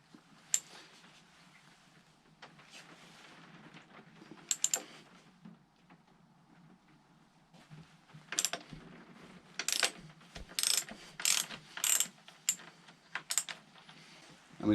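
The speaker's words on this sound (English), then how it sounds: "we're going to loosen off the chain tensioner. This is 17mm." A ratchet loosens the 17mm chain tensioner on a Triumph Speed Triple motorcycle: sparse, quiet mechanical ticks give way to clusters of sharp, close clicking bursts in the second half.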